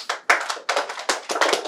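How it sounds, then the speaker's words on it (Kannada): Audience at a magic show clapping for a trick, quick uneven bursts of applause from a small crowd close by, rising and falling over a couple of seconds with no talking. "ಎಲ್ಲರಿಗೂ ಜೋರಾಗಿ ಚಪ್ಪಾಳೆ ಬೇಕಪ್ಪ ಇಷ್ಟ ಆದ್ರೆ"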